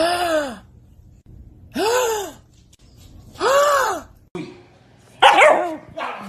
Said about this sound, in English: Gasp at your dog and see what they do. Gasp dramatically.